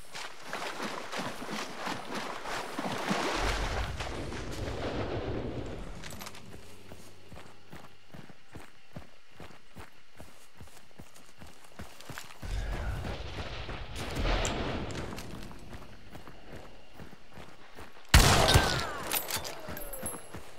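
Gunfire crackles in the first-person shooter game Hunt: Showdown as sharp shots and rattling bursts come in clusters over a low rumble, ending with a louder close volley.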